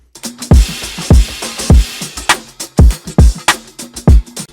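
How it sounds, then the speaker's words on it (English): Crash cymbals accenting the big hits in a hip-hop beat, washy bright splashes over thumping kicks and snares in a steady loop, loud and upfront. "And then some crashes to emphasize the like big hits."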